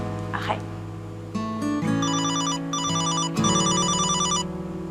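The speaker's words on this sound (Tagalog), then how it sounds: "Cellphone ba yun" A cellphone rings, a bright repeating electronic melody that loops several times at close range, with a brief bit of voice or noise right before it starts.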